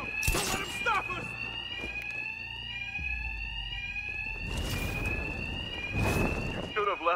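Alarms blare continuously in the Batman: Arkham Knight video game, a loud steady electronic wail with pulsing bursts, while game voices and combat effects sound over it.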